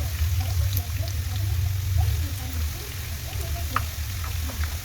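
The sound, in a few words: garlic browning in a pan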